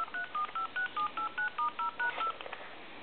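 A Telemania car telephone in a Lamborghini redials a number as a quick string of about a dozen clean, evenly spaced touch-tone beeps. The beeps are close and moderately quiet, with no talk, and a brief soft tail follows.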